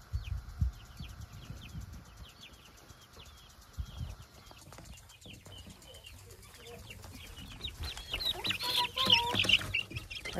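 Chickens clucking inside a backyard chicken coop with chicken wire, continuous soft clucks and calls close by, growing busier and louder toward the end alongside some rustling.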